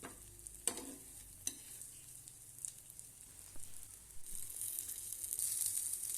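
Fish shallow-frying in a pan over a medium gas flame, a faint continuous sizzle with a few soft clicks and bumps early on, the crackle swelling a little toward the end.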